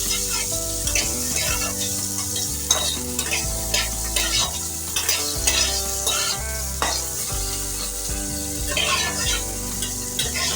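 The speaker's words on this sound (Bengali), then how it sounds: "এটা আমরা হালকা করে ভেজে নেব" Cubes of paneer sizzle steadily in hot oil in a pan, a continuous crackling hiss running underneath louder background music with a steady bass line.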